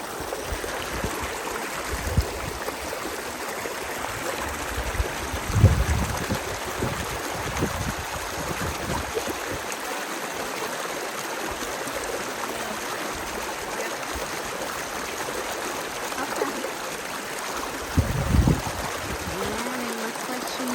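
Stream water runs steadily at an Appalachian Trail crossing over slippery logs and rocks, a constant broad rush with a few brief louder splashes or steps, and no talking.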